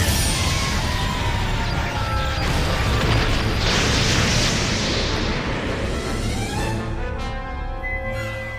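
A large explosion in a One Piece anime episode roars as a dense, sustained boom and rumble that stays loud for several seconds, then slowly fades out with a crackling tail.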